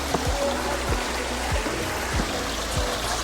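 A waterfall stream running over rocks at Pahine, heard as a steady close rushing and gurgling of water with soft repeated low thumps, and no talk.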